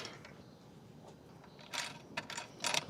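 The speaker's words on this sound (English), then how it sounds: "What I like to do is whenever I run this bolt through," A bolt with a washer being run through a box lid, heard as close mechanical ratcheting clicks and metallic taps that grow louder and more frequent in the second half, with no talking.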